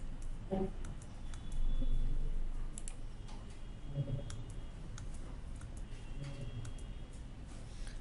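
Computer mouse clicks while working in SAP S/4HANA software, a handful of sharp, faint ticks scattered over a steady low room hum, with no talk.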